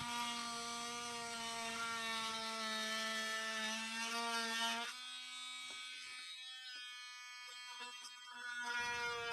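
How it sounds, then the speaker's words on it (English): An oscillating tool buzzes steadily as it cuts the plastic belt hook off a DeWalt jigsaw, a loud, harmonic-rich whine that drops in pitch and load midway, then revs back up near the end. "I'm cutting the little belt hook off with the oscillating tool"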